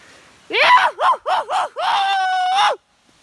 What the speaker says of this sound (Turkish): Her köye geldiğimizde bizim bir meşhur bağırışımız vardır.